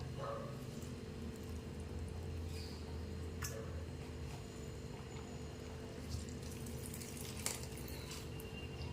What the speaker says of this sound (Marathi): आपल्याला जितकं पाणी काढता येईल तितकं पाणी याचं काढून घ्यायचं आहे